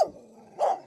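Dogs at a crowded animal shelter bark: two short, sharp barks close by with a brief gap between them.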